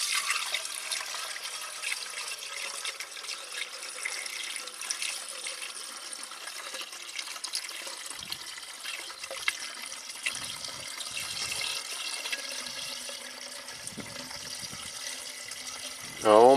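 About a gallon of coolant poured steadily into a Ford F150's cooling system, a continuous close liquid trickle and splash lasting throughout, ending with a short burst of louder noise.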